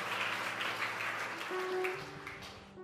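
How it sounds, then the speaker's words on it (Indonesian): A church congregation applauds steadily, a dense continuous patter of clapping with some murmured voices and a brief tonal hum, filling the whole stretch at moderate volume. "Beri tepuk tangan, saudaraku."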